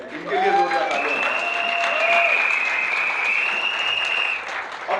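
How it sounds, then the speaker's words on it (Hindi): Workshop audience at a Modicare sales training event in Puri breaks into loud, sustained applause lasting the whole stretch, with a voice briefly audible over the clapping near the start. "इनके लिए जोरदार तालियां।"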